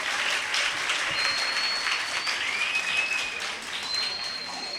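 An audience gives a dense, continuous round of clapping for a children's kaikottikali dance performance at an Onam festival competition, loud and sustained throughout, with a faint thin whistle-like tone above it.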